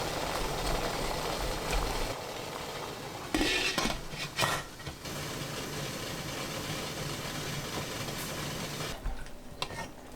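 Steamed king oyster mushrooms being mixed in a pot, with continuous metallic scraping and clattering of a utensil against the pot, a few sharper knocks, and no talking.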